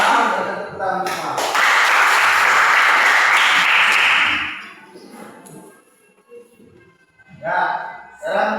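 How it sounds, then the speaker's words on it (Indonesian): A classroom of students clapping hands together in unison, a dense burst of applause lasting a few seconds, then fading out to quiet before voices resume. "Kalau paham, kita tepuk semua."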